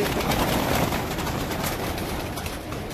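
Pigeons coo on a rooftop, low throaty calls repeating through a dense, steady outdoor background.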